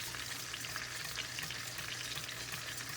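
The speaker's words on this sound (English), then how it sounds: "we're just gonna add a little at a time and give it a stir" Milk being added to Alfredo sauce in a pan, heard as a continuous soft sizzle and bubbling with light stirring, quiet and steady, with no one talking.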